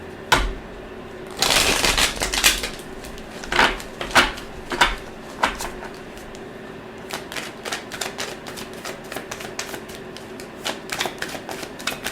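A tarot card deck is shuffled up close: one long riffle, then a series of shorter snaps and soft taps as the cards are squared.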